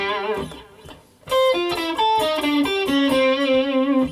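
Distorted electric guitar plays a straight chromatic sequence over power chords in a metal style, loud and sustained with a steady run of notes after a quieter opening.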